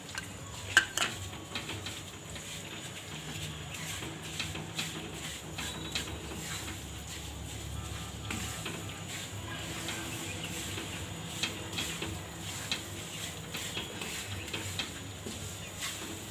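Fenugreek being roasted and stirred into flour in a pan for methi pak, heard as steady soft scraping and clinking of a utensil against the pan with faint patter throughout, close and fairly quiet.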